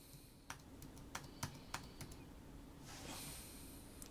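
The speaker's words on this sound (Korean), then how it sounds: "키보드" Quiet computer keyboard typing, a handful of sharp separate key clicks spaced irregularly, then a soft breathy rush of noise near the end.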